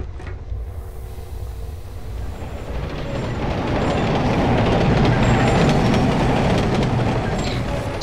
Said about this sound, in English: Basically, it's just as a train comes over your head, just run.